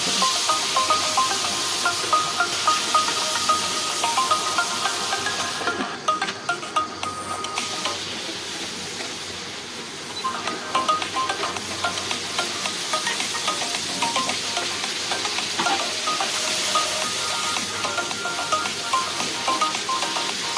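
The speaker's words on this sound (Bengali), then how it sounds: "আলু আর পটলগুলো সুন্দর করে ভেজে নিচ্ছি" Potato pieces and pointed gourd (patol) sizzle in hot oil for a vegetarian patol aloo korma, a steady close hiss and crackle with occasional stirring, no voice heard.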